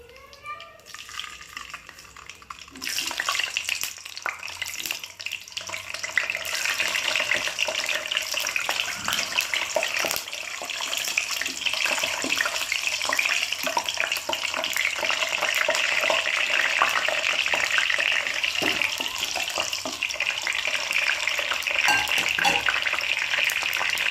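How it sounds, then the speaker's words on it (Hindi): Eggs frying in a pan of oil for a potato and egg curry, a steady close sizzle and crackle that starts after a few quiet seconds and holds loud and even throughout. "सबसे पहले हम अंडे जो है ना थोड़े से फ्राई कर लेंगे, गोल्डन कर लेंगे।"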